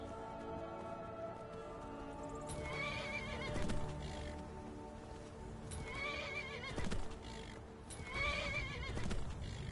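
A video game horse whinnies loudly several times while hooves clip-clop steadily underneath, close and clear with no talking.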